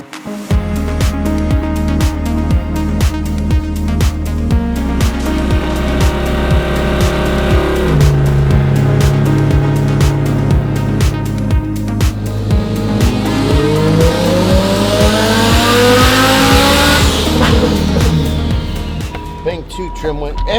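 A high-horsepower Lamborghini STO engine revs hard with rising and falling tones, tire squeal and rapid popping bursts, loud and close, with people talking over it.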